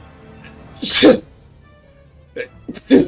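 Someone sneezes loudly nearby, with a short breathy intake before a sharp burst, then a second sneeze follows about two seconds later. Brief voices are heard around the sneezes at a tabletop D&D game.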